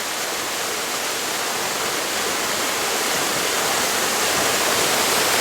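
Waterfall roaring steadily as climbers ascend it, a dense, continuous rush of falling water that swells slightly louder toward the end, with no voices heard.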